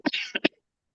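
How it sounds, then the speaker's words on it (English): Three close coughs from a nearby adult woman, loud and abrupt, bunched together and then trailing into silence, with no talking. "The cough."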